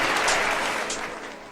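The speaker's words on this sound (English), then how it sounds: "Big claps in the studio right here." A brief burst of steady, dense clapping fills a studio, loud and close, from a small group applauding together.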